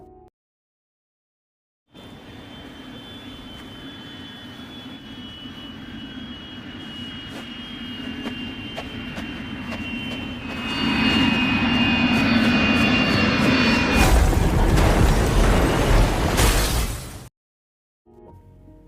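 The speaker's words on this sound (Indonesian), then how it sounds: "pesawat lain mulai turun mendekati pantai" A loud airplane engine roar builds steadily, swelling into a heavy, close rumble as the aircraft descends low toward a beach, then cuts off abruptly.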